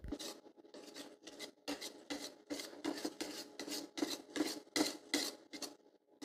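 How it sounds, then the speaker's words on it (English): Eggs scraped and tossed with a shrimp and noodle stir fry in a Nuwave induction wok, rhythmic raspy strokes of a utensil against the pan repeating about twice per second, close and clear without talk. "Scramble those eggs up and then mix it all together."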